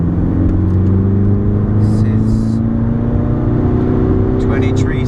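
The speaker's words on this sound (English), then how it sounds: "I'm gonna floor it and you'll see what kind of boost that it" Volkswagen Jetta TDI diesel with a new South Bend clutch accelerates at full throttle from about 2000 RPM in third gear, a loud steady engine drone rising slowly in pitch, heard from inside the car while someone talks over it.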